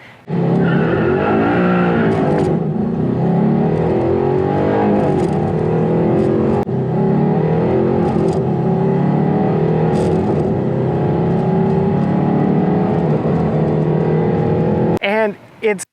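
A 2009 Audi R8 V8 pulls hard and loud, its engine note rising and shifting through gears over about fifteen seconds with possible tyre noise, then cutting off abruptly near the end.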